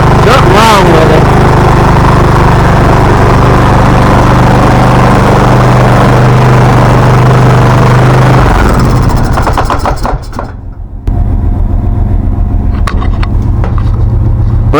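A Craftsman T1600 riding lawn mower with a faulty carburetor runs loudly and roughly, its engine chugging and sputtering close by, briefly stumbling near the end before resuming.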